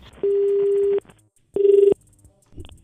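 Two steady telephone tones on a call, one long and one shorter, each starting and stopping cleanly, followed by a faint click as the receiver is put down.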